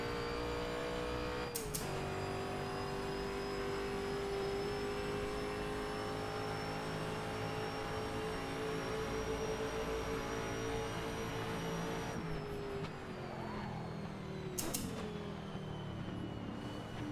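A WSC Legends race car in the Assetto Corsa racing game, engine droning at steady high revs with a couple of sharp gear-shift drops, loud and continuous with no voices.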